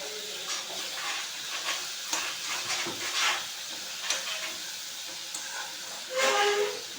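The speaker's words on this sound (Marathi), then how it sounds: "अशा भाज्या चांगल्या अशा परतून घ्यायच्या" Vegetables being sautéed in a tempering for appe, with a continuous close sizzle and hiss, irregular stirring scrapes, and a louder burst near the end, with no voices.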